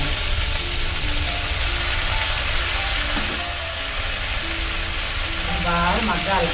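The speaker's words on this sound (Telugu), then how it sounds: "ఆయిల్ వేసాను కదా, కొంచెం 2 స్పూన్లు బాగా వేగాలి" Tomatoes and tamarind frying in about two spoons of hot oil for a coriander-mint chutney, a steady loud sizzle throughout with faint stirring clinks near the end.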